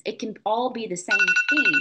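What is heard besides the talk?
phone alarm ringing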